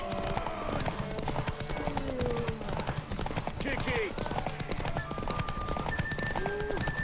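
Horse hooves clip-clop in a quick, steady rhythm, close and loud, in The Witcher 3: Wild Hunt, with a voice speaking briefly over them.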